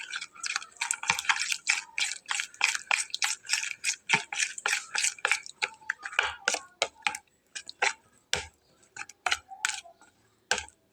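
Batter being stirred in a bowl after turmeric is added, heard as a steady run of wet clicks and scrapes against the bowl, fairly close and alone, with a short pause near the end.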